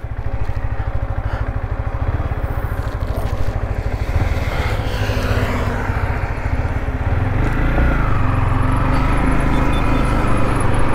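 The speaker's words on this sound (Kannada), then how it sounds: "ಗಾಡಿ ಸ್ಟಾರ್ಟ್ ಮಾಡಿಕೊಂಡು ರೈಡ್ ರಿವ್ಯೂ ಮಾಡೋಣ" Yamaha MT-15 motorcycle running, a loud, close engine drone that holds steady throughout and rises slightly toward the end, with no talking over it.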